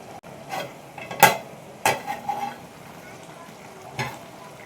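North Karnataka style eggplant ennegai curry simmering in a pan over a medium flame, covered with a plate: a soft bubbling sizzle close by, broken by a few sharp clinks and knocks of utensils.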